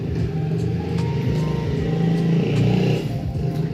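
A motorcycle rumbles past nearby with a steady, rising engine drone that swells and then fades slightly, heard alone without speech.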